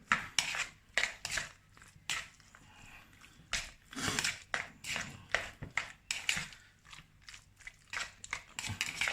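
Quick, irregular clinks, scrapes and taps from a utensil stirring garlic and marinade in a pan for bœuf lôc lac, fairly faint and close.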